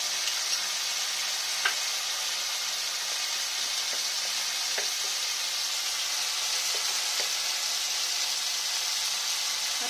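Potatoes and pointed gourd fry with ginger in a pan, a steady, bright sizzle that holds evenly throughout, with a few faint ticks and scrapes of stirring and no talk.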